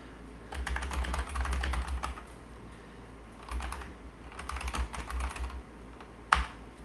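Computer keyboard typing in bursts of rapid clicks while entering terminal commands during an Ubuntu distribution upgrade, close and clear with short pauses between runs of keystrokes and one louder final key tap.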